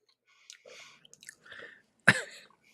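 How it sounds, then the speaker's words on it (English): Crunchy cheese puff snacks seasoned with Dots original spice are chewed close up, giving a few soft crackly crunches and then one sharp, loud bite-like burst near the end, with no talking. "It's got the crunch of a Cheeto, but it does have that little kick to it, and it's not overly cheesy."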